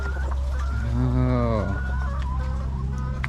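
About 30 chickens in a coop cluck close by, with one drawn-out, wavering call rising above the steady low murmur of the flock.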